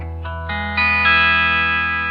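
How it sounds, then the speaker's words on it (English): Electric guitar played through a Fender Super Champ X2 amp on its 60s British Vox preset with added distortion, four notes picked in succession and left to ring into a bright, sustained chord, moderately loud with no voices. "60s British, again a Vox with a little bit more distortion added to it."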